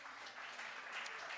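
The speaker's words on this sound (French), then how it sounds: "Applaudissez, s'il vous plaît." Dense crowd applause at a church singing contest, a brief continuous wash of many hands clapping at steady volume.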